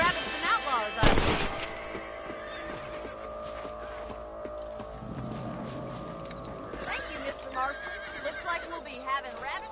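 Horses in the video game Red Dead Redemption on PS5 whinny and snort, with a sharp burst early on, hooves clopping and other game sounds underneath, and voices talking at times.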